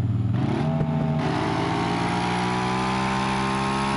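A damaged Mercedes-AMG S63 engine in the BeamNG.Drive driving game drones at high revs, a loud, continuous buzzing whine that shifts briefly at the start and then holds a steady pitch without any talk.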